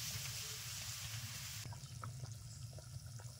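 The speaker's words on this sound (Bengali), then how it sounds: "10 মিনিট জাল করে নিয়েছি, টকবক করে ফুটছে" Water boiling in a cooking pot with potatoes, a steady bubbling and hissing close by that softens midway into quieter, irregular bubbling, with no talk.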